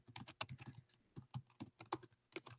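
Computer keyboard typing while entering text into a digital portfolio: irregular clusters of close, crisp key clicks with short pauses between bursts, no voice.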